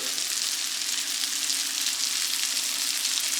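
Steady, loud sizzling of salmon cakes frying in a hot cast iron skillet on a stovetop, a continuous crackling hiss with no pauses.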